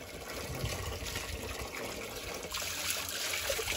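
Water from a newly installed well flows steadily, a continuous trickling gush with a brighter splashing surge partway through, heard alone without speech.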